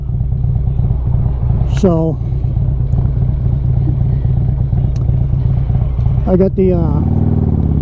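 A motorcycle in need of maintenance drones steadily at riding speed with a low engine rumble, under someone talking close to the microphone.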